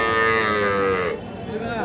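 A young bull calf at a cattle market moos in one long, loud, close call that falls off near the end, with market noise beneath.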